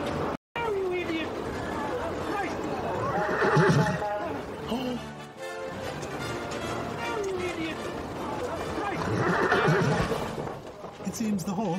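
A horse whinnies loudly twice amid steady hoof clip-clop, with a murmur of voices in the background.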